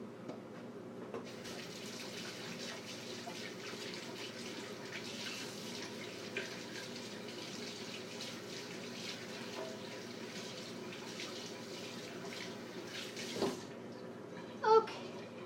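Water from a tap runs steadily into a sink as hands are washed in a kitchen while cooking, a continuous medium-loud wash with a few brief knocks near the end.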